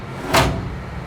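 A drawer tray slides open inside a Ferrari home service car, one brief broadband swish rising then settling, close and fairly loud over a low background rumble.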